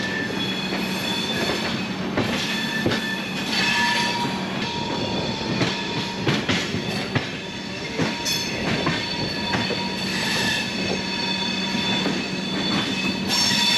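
A train crosses the Yamuna river with a steady, loud rumble and rhythmic clickety-clack of wheels, and occasional squeals over the rails, with no voices.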